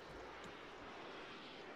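In an Arma 3 match, a jet aircraft roars overhead as a steady, faint, broadband rush of engine noise, with no voices over it.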